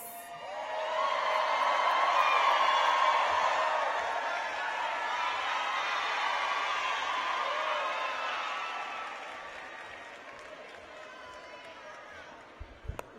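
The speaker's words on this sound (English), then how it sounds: "give a warm, loud applause and join me by welcoming Carla Hernandez Matz" A large crowd at a get-out-the-vote rally in Miami bursts into sustained cheering and applause, a broad roar that swells, holds for several seconds and slowly fades, with whoops rising above it.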